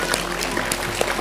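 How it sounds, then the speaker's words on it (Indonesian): Brief burst of audience applause at an evening gathering, dense steady clapping heard from within the crowd with no speech over it. "Tepuk tangan untuk Mas Patop ya,"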